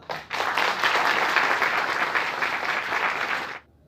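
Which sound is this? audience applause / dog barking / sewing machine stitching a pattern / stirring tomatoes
audience applause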